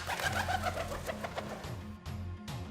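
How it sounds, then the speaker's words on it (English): A flying dove makes a soft burst of quick wingbeats and then thins out, with a low cooing tone running underneath, all heard close and alone. "Listen, for example, to how a dove flies"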